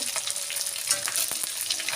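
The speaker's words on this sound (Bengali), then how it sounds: "গাইস মাছ প্রায় ভাজা হয়ে গেছে," Fish that was rubbed with salt and turmeric fries in hot oil in a kadai, giving a steady, close crackling sizzle with a few sharper pops over two seconds.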